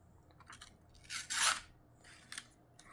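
Kershaw Blur knife slicing through a small piece of paper: a few soft rasping cuts, then a louder scraping tear in the middle and a brief swipe near the end, close and quiet with no talking.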